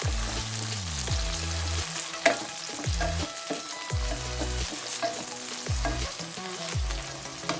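Onions and tomatoes fry in a pan for a mixed vegetable bhaji, a steady sizzle broken by repeated stirring scrapes and clinks at close range, with no voices.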